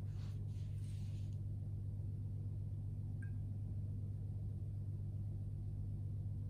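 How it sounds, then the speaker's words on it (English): An exhaust fan under the floor runs as a steady low hum and rumble, continuous and unchanging, with a faint brief tick partway through and no talking. "the noise you might be able to hear in the background is actually just an exhaust fan"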